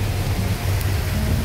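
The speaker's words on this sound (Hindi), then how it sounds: "तेज बारिश, घर से निकलते ही" Heavy rain falls steadily outdoors as a dense, loud, continuous wash of noise with a low rumble beneath, no voices.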